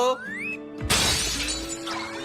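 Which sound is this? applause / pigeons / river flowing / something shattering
something shattering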